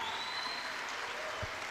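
Church congregation applauding during a service, a dense, even wash of clapping from many hands, steady and fairly distant throughout the short moment.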